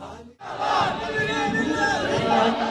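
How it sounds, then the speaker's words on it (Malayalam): An enthusiastic crowd gathers to welcome the Ustad's Karnataka march, many voices shouting and cheering together in a loud, continuous roar after a brief lull at the start. "ആവേശഭരിതരായ ജനക്കൂട്ടം ഉസ്താദിനെ കാണാനും യാത്രയെ ആശീർവദിക്കാനും"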